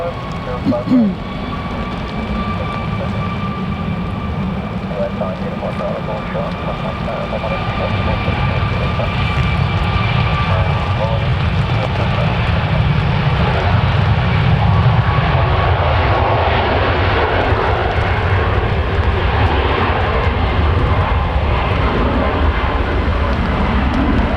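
A Boeing 737 airliner roars at Manchester Airport during Storm Claudia, its engine noise loud and sustained, swelling over the clip with whining tones above a deep rumble, while someone talks throughout.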